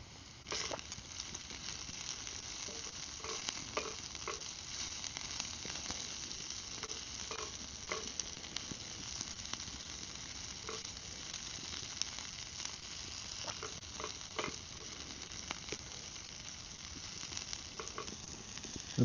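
Food, likely steak, sizzles and fries steadily in a pan over a Firebox stove outdoors on a cold winter day, with a continuous close crackling hiss and occasional stirring scrapes, no voices.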